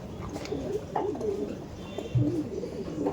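Kaldom pigeons at a loft coo repeatedly in soft, low, rolling calls, several birds overlapping at close range against a light background hum.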